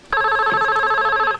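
A telephone in an old Turkish film rings once, a steady bright electronic trill lasting over a second, close and clear with no talk.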